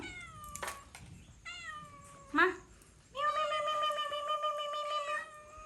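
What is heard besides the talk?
cats meowing in an abandoned house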